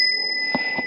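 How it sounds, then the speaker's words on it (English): A blue bell mounted on an Ariel Rider Kepler e-bike rings with a steady high metallic tone, and two soft taps sound partway through. It is close and clear over faint background noise. "I found a bell for her that's blue."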